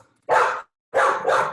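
A dog barks loudly and close by in two bursts, a single bark followed after a pause by a double bark, with no talking.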